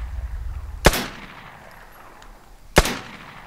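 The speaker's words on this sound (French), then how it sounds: "Mais y'a un mec qui me tire dessus, c'est quoi ça?" Two sharp gunshots from another player in the battle royale game Vigor, spaced about two seconds apart, each a loud crack with a short decaying tail, alone with no talk.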